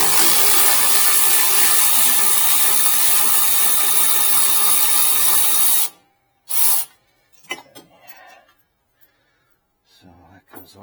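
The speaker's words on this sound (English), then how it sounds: "Use some power tools to expedite this whole job a little bit for you guys at home." Air-powered impact wrench or similar power tool running continuously on a Hyundai Sonata during a brake rotor and pad change, loud and steady for several seconds, then stopping, followed by a few short clanks and bursts of shop noise.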